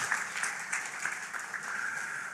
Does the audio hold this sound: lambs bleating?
no